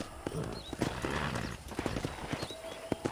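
Horse hooves clip-clop in a quick, steady rhythm at close range in the video game Red Dead Redemption, with a brief whinny-like sound mixed in.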